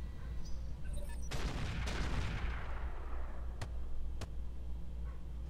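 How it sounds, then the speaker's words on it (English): Howitzer artillery booms in the Roguetech mech combat game: a heavy blast near 1.3 s and another around 1.9 s roll off into a long decaying rumble, followed by two sharp distant cracks later, with no talking. "Those are the howitzers."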